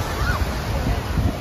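Ocean surf washes in at Coney Island beach in New York on a cold, windy day, a steady near rush of waves mixed with wind buffeting the microphone.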